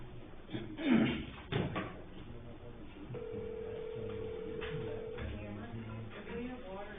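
A telephone call is dialed on speakerphone at a board of trustees meeting: a few knocks and handling noises, then a long steady tone, then further line sounds, with people talking.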